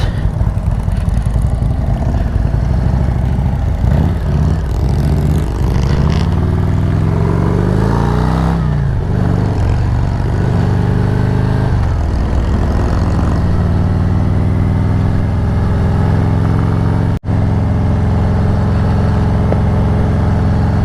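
A group of five motorcycles, one of them a Harley-Davidson Sportster, rides together on a back road, their engines droning loud and steady with shifting revs throughout.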